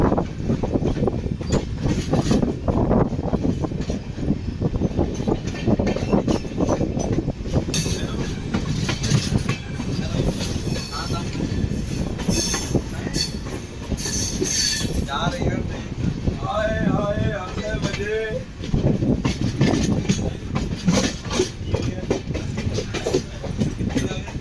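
The Sachkhand Express runs from Delhi toward Amritsar near Beas Junction, a loud continuous rumble of wheels on rails with rhythmic clickety-clack and brief squealing, heard from on board.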